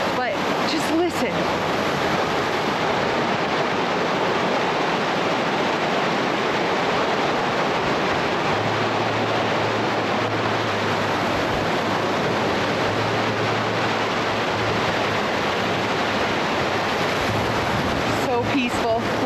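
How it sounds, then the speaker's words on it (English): Rock Creek near its source rushes and burbles in a constant, full wash of sound, close by and unbroken from start to finish. "Check out this river that's just at the very beginning"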